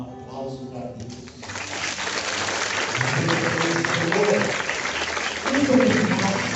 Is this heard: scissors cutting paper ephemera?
no